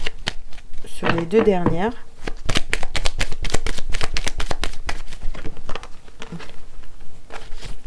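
Tarot cards are shuffled and laid out with rapid papery riffling and slapping, running almost continuously beneath someone speaking French.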